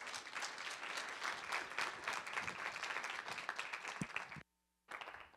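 Audience applause welcoming a speaker at a lecture on classical Greek drama: dense, sustained clapping from a large crowd that cuts off abruptly, then resumes briefly.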